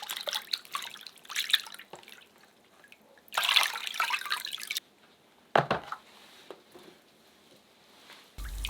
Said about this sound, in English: Now, wash the meat well to remove salt.